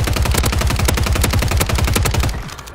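Rapid automatic SMG fire in a first-person shooter video game, a loud continuous burst of closely spaced shots that runs for more than two seconds and then cuts off, with no talking.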